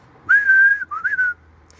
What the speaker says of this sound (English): A good example of a code is le sifflet du couvreur,